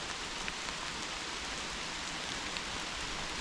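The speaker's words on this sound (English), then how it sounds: "I'm gonna wait for a couple of minutes to see if the rain calms down a bit, then continue walking." Steady outdoor rain falls on a walking trail, a dense, even hiss of drops with no break or change in intensity, close and continuous with no voices.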